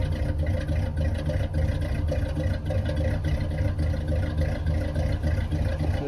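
A Chevrolet Caprice Classic engine idles roughly right after a cold start, a steady, dense, uneven low rumble that stays loud and close throughout with no talking.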